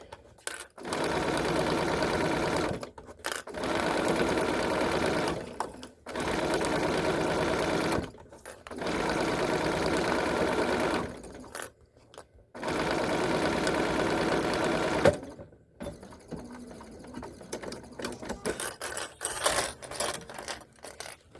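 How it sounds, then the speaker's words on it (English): A sewing machine runs in steady bursts while stitching the bottom panel of an Iris crossbody bag, with short back-stitches at each end; five loud close runs separated by brief pauses, then lighter uneven handling sounds at the end. "I'm going to stitch on my bottom panel, back stitching at the beginning and the end"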